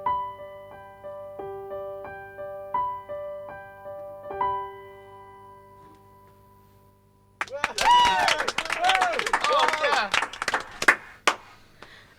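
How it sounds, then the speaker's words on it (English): Scattered clapping from a small group of listeners upstairs at a live music session, following a held instrumental passage, with several people clapping unevenly at once. "We've got some people that are upstairs that are just listening, so that's the clapping from them"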